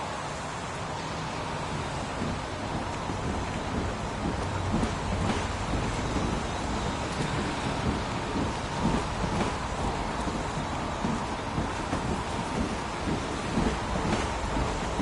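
Heavy rain pours in a dense, steady roar with occasional low rumbles of thunder, filling the scene loudly and evenly with no voices.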